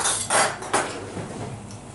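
A pot and dishes clink and clatter sharply a few times as dumplings go into boiling water, fairly faint against a quiet background.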